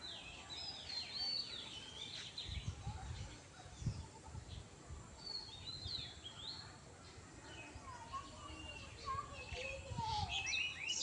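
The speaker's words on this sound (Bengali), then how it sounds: "গাছের ভেতরে একটা পাখি বসে রয়েছে সুন্দর" A bird calls from inside a tree hollow with faint, scattered chirps and tweets, heard at a distance over low outdoor rustling and murmuring.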